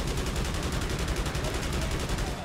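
Aircraft cannons in the Wings of Prey flight game fire in a loud, continuous rapid burst, a dense unbroken stream of shots that fills the whole stretch.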